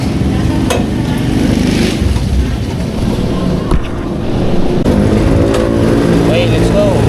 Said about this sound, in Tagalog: Painit muna tayo ng makina.